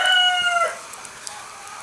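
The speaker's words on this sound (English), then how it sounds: "I think I woke the roosters up" A rooster crows once, loud and nearby, with a clear drawn-out call that ends abruptly, followed by faint background noise and a few small clicks.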